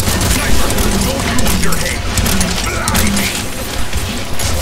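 Rapid gunfire from weapons in the online shooter Paladins, a dense continuous barrage of shots and impacts filling the scene at high loudness.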